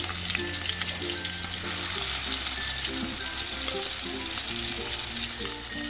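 Fish pieces fry in oil in a pan for a Kerala-style dum biryani, producing a loud, continuous close sizzle with faint scraping and light taps from stirring.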